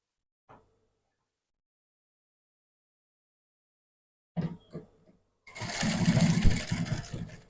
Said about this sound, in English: Now you go ahead and sew your elastic.